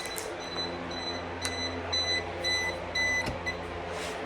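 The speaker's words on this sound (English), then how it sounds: "This is just a timer I have set." A timer beeps in a workshop while parts are being powder coated, its short evenly spaced electronic tones repeating over a steady background hum.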